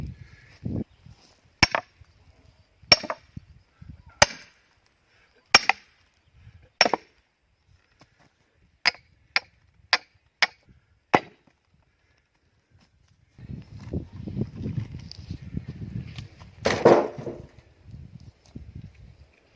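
An 82-year-old man splits firewood with an axe in the countryside. About ten sharp, loud chops land a second or so apart, followed by softer rustling and handling of wood, with no talk.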